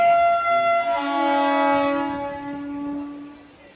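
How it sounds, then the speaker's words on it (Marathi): A local train about to depart sounds its horn, a loud, near, sustained blaring tone that shifts pitch once and then fades slowly over several seconds. "चला आता ट्रेन थोडाच वेळ चालू होते."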